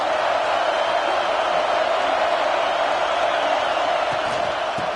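Football stadium crowd cheering during a game, a dense, loud, sustained roar of many voices holding steady throughout, heard from within the stands.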